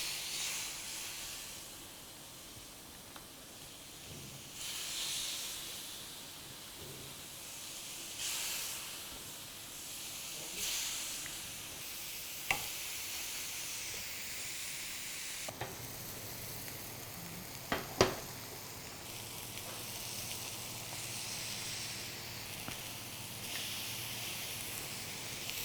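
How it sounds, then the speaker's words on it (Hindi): Chicken pieces hit a hot, lightly oiled grill pan, giving a steady close hiss and sizzle with occasional brighter spits and crackles, and no talking. "गर्मा गर्म पैन में हम चिकन को डालेंगे। देखिए आवाज़ आई ना छूं वाली"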